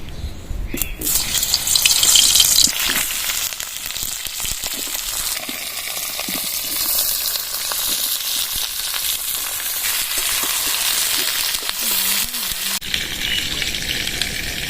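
Cut pointed gourd drops into hot mustard oil in a kadai, bursting into a loud, close sizzle that settles into a steady crackling hiss, with a few utensil scrapes and a short murmur near the end.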